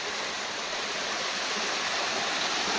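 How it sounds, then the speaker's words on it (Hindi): A waterfall in a forest near Govindpur, Nawada roars in a dense, steady rush of falling water, loud and close with no pauses. "ये देखिए झरना"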